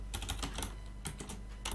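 Quick, clicky keystrokes on a computer keyboard while code is typed, arriving in short irregular bursts, close and fairly quiet with no talking.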